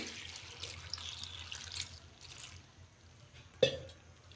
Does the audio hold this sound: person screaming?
no